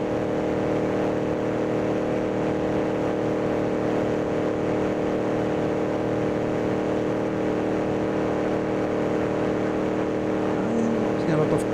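Race cars from the 1933 British Empire Trophy in Assetto Corsa drive with a continuous loud engine drone at steady revs, a close buzzing tone holding throughout with a faint rising pitch near the end.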